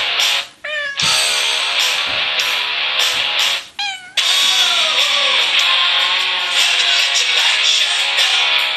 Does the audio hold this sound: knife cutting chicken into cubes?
no